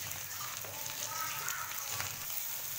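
Vegetable masala curry base frying in a pan: a continuous soft, hissing sizzle, fairly quiet and even, with light crackles and no talking.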